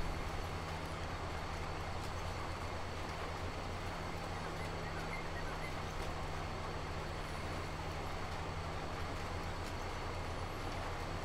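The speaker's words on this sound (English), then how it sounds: "Look at them trains in the background" Trains passing in the background of the Farming Simulator 22 Erlengrat map, a steady, even rumble of rail noise with a low hum, distant and continuous, with no talk over it.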